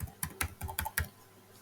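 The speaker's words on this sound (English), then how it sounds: "So I'm typing Ellen Soli." Typing on a computer keyboard: about six quick, close, crisp key clicks in an uneven burst, then quiet, with no talking.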